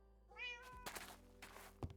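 A cat in the Minecraft Cobblemon mod lets out a clear, rising meow, followed by a few soft thunks and blocky footsteps, fairly quiet with no talking.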